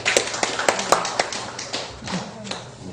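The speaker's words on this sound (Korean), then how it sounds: "큰 박수 부탁드리겠습니다" Audience applause at an indoor meetup on cryptocurrency coins comes as a scattered run of sharp hand claps from a modest crowd, loud at first and then thinning and fading over a few seconds.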